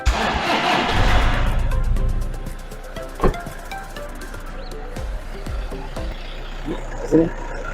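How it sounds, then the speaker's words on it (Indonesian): A 2012 Toyota Kijang Innova 2.5 G manual diesel engine cranks and catches with a loud burst, then settles into a steady idle, with people talking nearby over the running motor. "Ini sangat halus suaranya daripada mesin ini."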